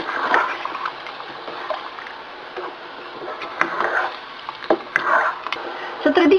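Coconut milk stirred into Bicol Express in a pan, soft wet sloshing and splashing with light utensil taps, moderately close, under faint talk.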